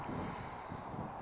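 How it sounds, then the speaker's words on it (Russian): Steady, loud wind buffeting the microphone, a continuous rumbling roar with no clear breaks. "И тут сильный ветер поднялся."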